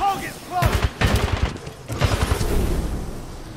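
Bursts of gunfire in the shooter game Titanfall 2: several loud rapid volleys cluster close together, then continue in a denser rattle that tapers off, with a brief voice at the very start.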